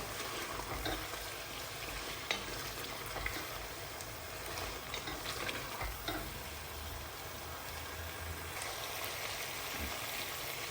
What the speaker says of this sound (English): So the potatoes go in, and you cook this on high heat still